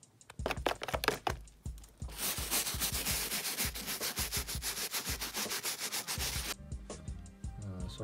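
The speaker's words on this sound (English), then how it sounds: "Now I'm gonna start scrubbing." A brush scrubs an old vintage snapback hat stuffed with a towel, with rapid rhythmic rubbing strokes that start as separate scrapes and settle into a steady, close, brisk scrub.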